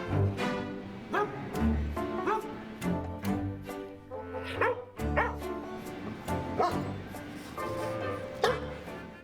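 Trained movie dogs bark on cue, a series of sharp barks and yips with some whimpering, close and fairly loud in a quick irregular rhythm, with little talk.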